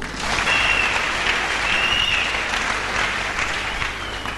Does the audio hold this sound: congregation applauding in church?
yes